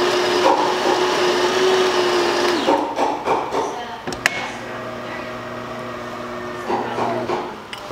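A Delonghi espresso machine under repair testing pulls a double shot, giving a loud steady mechanical pump hum whose tone shifts partway and then settles into a lower drone before it stops near the end.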